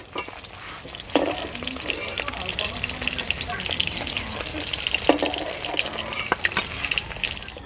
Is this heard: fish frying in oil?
yes